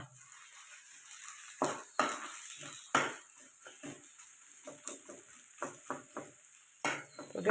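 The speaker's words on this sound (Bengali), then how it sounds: "তেল গরম হইলে পেঁয়াজটা ছাড়ি দিবা ছাড়িয়া বালাইলে লাড়বা" Onions frying in hot oil while being stirred, a faint sizzle beneath repeated sharp scrapes and clinks of a spatula against the pan in an irregular rhythm.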